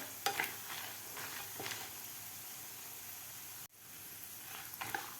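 Cumin seeds, urad dal and peanuts dry-roasting together in a pan for a bitter gourd chutney, a soft steady hiss with a few scraping stirs, faint and alone with no talk.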